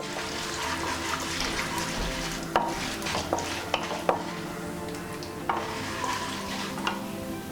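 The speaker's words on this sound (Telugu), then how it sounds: "కొద్దిగా మెంతులు, జీలకర్ర వేసుకొని ఫ్రై చేసుకుందాం." Fenugreek seeds, cumin and urad dal frying in a pan for onion chutney, a steady soft sizzle broken by a few clicking stirs and scrapes of a spoon, close and fairly quiet, with no talk.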